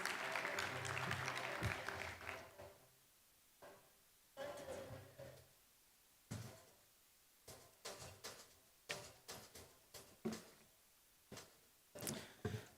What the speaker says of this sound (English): kindly let us offer Ambassador Barine an applause as he comes to the stage to make his closing remarks